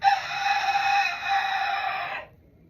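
A bantam hen with a ruptured egg calls in a steady, close, fairly loud clucking cry lasting about two seconds before cutting off, with no talk over it.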